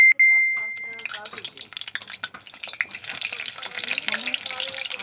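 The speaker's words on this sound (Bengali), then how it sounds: "একটু ভেজে নেবো লাল লাল করে।" Potatoes dropped into hot mustard oil in a home kitchen, a sharp tone then crackling, spitting sizzle with clinks and stirring, fairly close and irregular throughout.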